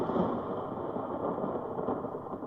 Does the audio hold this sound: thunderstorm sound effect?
yes